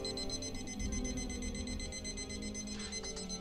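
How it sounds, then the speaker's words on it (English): An alarm keeps sounding for several seconds, a steady, fairly loud stack of high electronic tones held without break over low room hum. "That's my alarm."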